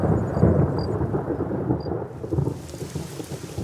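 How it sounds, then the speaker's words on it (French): Rain starting to fall in Congo, with a low rolling rumble of thunder beneath it, a steady wash of patter that grows thinner toward the end, with no voices. "Alors que la pluie commence à tomber,"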